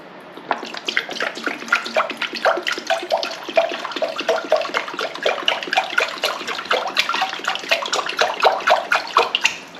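Pickling liquid poured into a jar tightly packed with gherkins, a steady close splashing, gurgling pour running continuously for about ten seconds with no talk.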